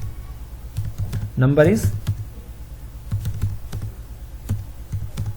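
Code being typed on a computer keyboard, a brisk run of sharp key clicks that keeps going while someone speaks briefly partway through.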